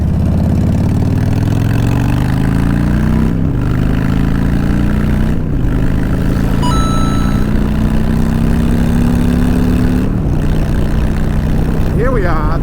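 A Harley-Davidson motorcycle fitted with a Memphis Shades Road Warrior fairing cruises on the highway, its engine droning loudly and steadily with rising pitch through several gear shifts over constant wind rush.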